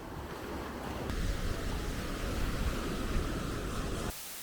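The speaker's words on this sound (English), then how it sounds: "Soaking your feet in the ocean that is warm like bathwater." Warm ocean surf at the coast at Berbera, Somaliland, rolls as a steady broadband wash with wind buffeting the microphone, continuous and fairly close, before cutting off abruptly near the end.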